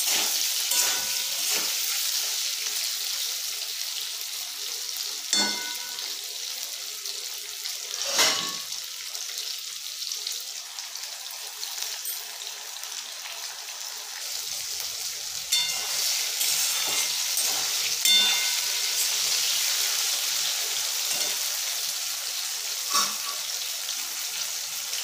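Kathla fish pieces fry in a pan over a low-medium flame, giving a steady close sizzle with a few brief stirring clatters and no talking.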